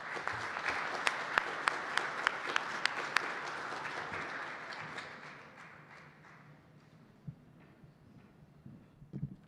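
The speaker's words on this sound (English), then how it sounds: "Let's give her a nice round of applause." An audience claps loudly, with a few sharp individual claps standing out, then the applause thins and fades over several seconds.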